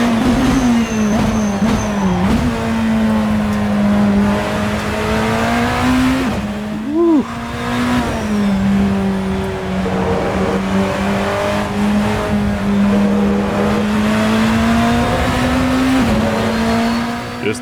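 A BMW M Hybrid V8 race car lapping in Assetto Corsa, its engine droning loud and steady with rising and falling pitch through shifts and corners, continuous throughout.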